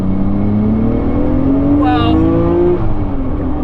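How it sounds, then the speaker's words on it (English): A MINE'S Nissan Skyline R34 GT-R race car accelerates hard from inside, the engine note climbing steadily in pitch as it pulls through the revs, loud and close, with a brief exclamation from a voice partway through. "There's just so much acceleration when you get on this car."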